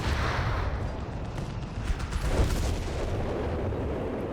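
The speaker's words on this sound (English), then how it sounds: "Continue heavy artillery fire here." Heavy artillery fire in the video game Company of Heroes 3, a dense continuous rumble of distant booms and bursts layered together, steady and fairly loud throughout without a break.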